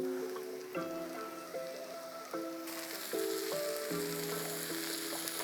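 Onions and mushrooms fry in a pan, salted, as their liquid cooks off. A steady broadband sizzle swells louder partway through, under tonal music, with no talking.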